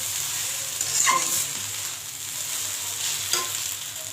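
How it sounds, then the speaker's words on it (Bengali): Pre-fried eggs are stirred in a sizzling frying pan, with a steady frying hiss and a couple of scraping stirs of the spatula against the pan. "এবার ভেজে রাখা ডিমগুলো আমি দিয়ে দিলাম তারপর দিয়ে আমি এবার নাড়াচাড়া করে নেব"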